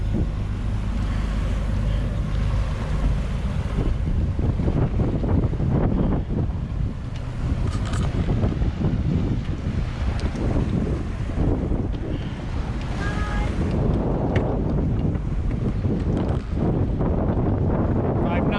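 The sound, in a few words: sailboat motor sailing close hauled in the wind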